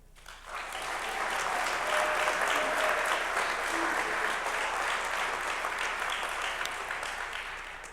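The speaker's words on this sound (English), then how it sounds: "I think he is worth his own round of applause, so please, Tim Anderson." A round of applause for coach Tim Anderson at an athletics hall of fame induction ceremony, a full, steady clapping from the audience that swells quickly and holds evenly with only faint voices mixed in.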